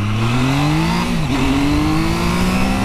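A Triumph Trident motorcycle's three-cylinder engine drones loud and steady while the bike is ridden. The pitch climbs smoothly, dips briefly during a gear change, then rises again as the bike accelerates.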